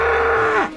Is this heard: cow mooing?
yes